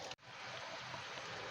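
Steady broadband rush of water pouring from a garden hose during a leak test of holes, running loud and continuous after a brief gap near the start, with no talk.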